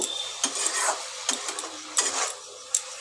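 Shredded cabbage sizzles and hisses in a hot pan with green chili paste, with several sharp scraping stirs of a spatula at irregular intervals.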